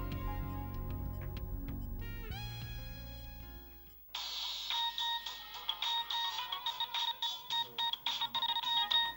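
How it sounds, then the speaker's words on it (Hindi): A phone ringtone plays loud and close: a steady melodic tone for about four seconds, then a bright, rapidly pulsing ring pattern for the rest, with no talking. "उसका फोन आ गया"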